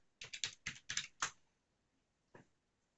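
A username and password typed on a computer keyboard at a login screen: a quick run of about six soft key clicks, then a pause and one last keystroke, faint and close with no talk.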